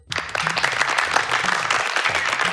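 An audience at a Yoruba children's game show breaks into sustained clapping, dense and fairly loud, starting abruptly and continuing steadily for a couple of seconds, with faint voices mixed in.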